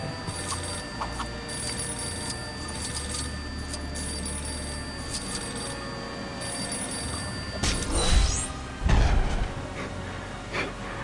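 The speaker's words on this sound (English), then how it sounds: "Just answer the phone in the TARDIS for a mini kit." A telephone rings inside a red TARDIS-style police box in Lego Batman 3: Beyond Gotham, a steady, repeating electronic ring under busy game ambience, with a couple of louder bursts toward the end and no speech.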